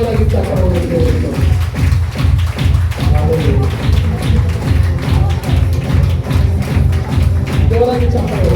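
A church worship congregation claps loudly in a fast, steady rhythm, continuous throughout, mixed with singing or voices over a driving beat.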